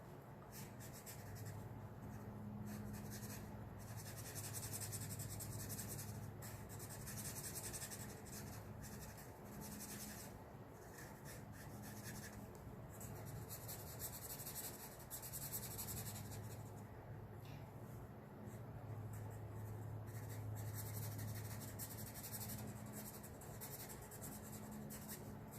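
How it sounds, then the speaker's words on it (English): A pencil colors in an anime hair drawing with steady, continuous scratchy shading strokes on paper, quiet and close, running without pause under faint background hum. "I'm just going to go ahead and color this in"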